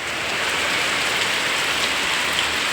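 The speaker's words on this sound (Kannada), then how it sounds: "ಜೋರು ಮಳೆ ಬಂದು" Steady, dense rain pours down without a break, a continuous broadband hiss of heavy rainfall close by.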